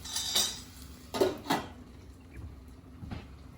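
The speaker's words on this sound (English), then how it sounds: "Give it a stir." A utensil clinks and scrapes against a metal pot a few times in quick bursts while cooking shallots for ginger cardamom rice, fairly quiet, with no talking.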